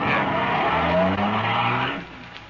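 A car pulls away with loud, sustained tire skidding and a revving engine in an old-time radio crime drama, the squeal and motor roar filling about two seconds before fading, with no talk.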